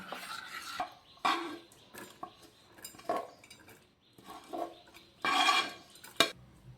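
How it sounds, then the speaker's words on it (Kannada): A spoon stirs soaked rava batter with onion, green chilli and coriander for bun dosa, giving quiet, intermittent scrapes and clinks against the bowl in uneven strokes separated by short pauses. "ಉಳ್ಳಾಗಡ್ಡಿ, ಹಸಿಮೆಣಸಿನಕಾಯಿ, ಕೊತ್ತಂಬರಿ ಇದ್ರಾಗ ಹಾಕಿ ತಿರುಗಾಡ್ತೇನೆ"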